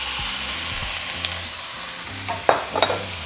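Beef frying in a pan with oil and sliced onions, a steady close sizzle with a few louder scraping stirs near the end, no talking.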